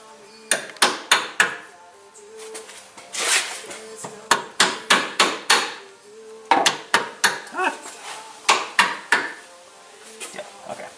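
Sharp metallic hammer blows ring out as a motor mount is hammered into place, in quick bursts of three to five strikes, with short pauses and some clanking and shuffling between them.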